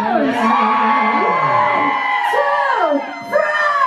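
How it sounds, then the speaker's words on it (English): A concert crowd in Syracuse, NY yells, whoops and cheers loudly and steadily throughout, a dense mass of voices with a brief dip near the end before the shouting surges back. "I want you to raise your horns in the air and yell as loud as you can"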